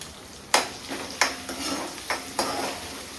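Sliced onion frying in a hot pan, with a few sharp clinks of a spoon stirring against the metal over a steady sizzle, close and fairly loud.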